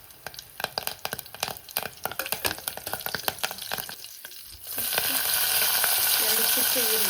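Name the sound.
mustard seeds and curry leaves spluttering in hot oil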